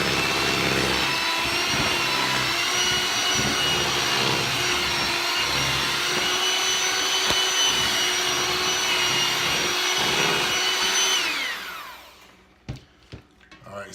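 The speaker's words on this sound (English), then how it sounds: "you want to take your mixer and mix this stick of butter up" An electric hand mixer beats butter and Crisco in a bowl, a steady loud motor whine with grinding texture that runs continuously for about eleven seconds, then cuts off, leaving a few faint knocks.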